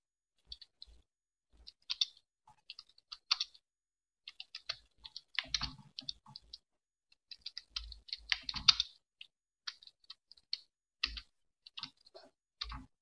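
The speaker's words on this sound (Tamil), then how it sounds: "நான் சேம் டைப்பிங் இன்ஸ்டியூட்டில் எப்படி நான் டைப் பண்ணுவனோ அதே மாதிரி தான் டைப் பண்ணேன்" Typing on a computer keyboard in Tamil Bamini font, crisp close key clicks coming in quick irregular bursts with short pauses between, some heavier thumps from the larger keys, in an otherwise quiet room.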